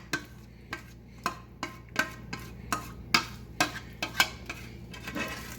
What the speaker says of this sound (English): we're going to go ahead and get it dumped down into our pan of macaroni